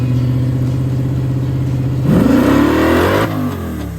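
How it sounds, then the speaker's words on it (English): A Chevrolet Malibu running on E85 revs loudly at the line, the engine note holding steady and then climbing sharply as it launches before easing off, close and without talk. "Hopefully this time, we can lower the launch RPM and get the car to hook"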